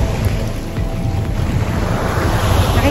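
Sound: strong sea waves at a pier

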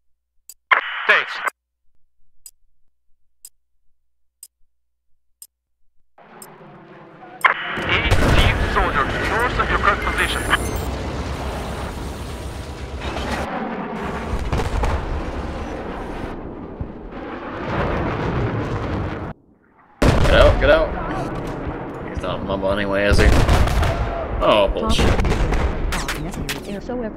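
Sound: gunship support gunfire in video game Battlefield 4

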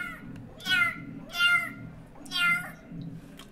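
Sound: cat meowing

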